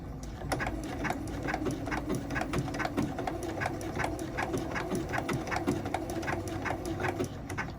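A sewing machine stitches binding onto a quilt in a steady run of rapid, evenly spaced needle strokes, close and continuous with a low motor hum underneath.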